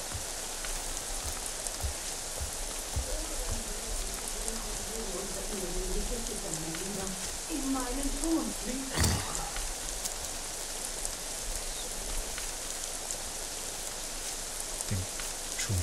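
Rain falling in the stealth video game Thief, a steady hiss of drops pattering on surfaces that continues throughout at moderate level, with brief game sounds and a sharp click partway through.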